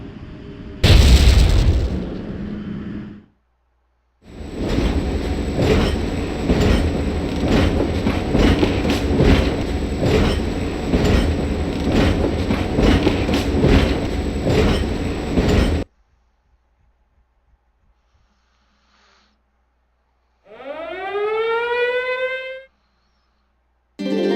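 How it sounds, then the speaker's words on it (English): A train in the Valkyria Chronicles video game moves back and forth. A loud burst comes first, then a long steady rumble of rolling wagons with clatter for about eleven seconds, silence, and a short rising mechanical whine near the end. "the train's going to continually do that, just going back and forth"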